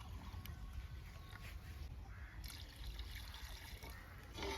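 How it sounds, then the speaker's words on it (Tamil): Water trickles and splashes steadily into a pot of mutton dum biryani, a continuous liquid pour with a soft gurgle, close by and moderately loud. "அரை கிளாஸ் வந்து நார்மலாக உள்ள தண்ணியை தான் நான் சேர்க்குறேன்"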